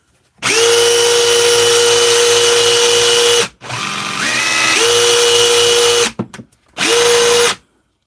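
A repaired DeWalt cordless drill with a fixed chuck whirs at full speed in long close bursts, its pitch dipping and rising once mid-run, then stopping with brief blips before a final short spin.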